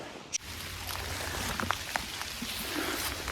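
Rain falls outdoors during a pike fishing outing, a steady soft hiss with scattered drop ticks striking a damp microphone, no one talking.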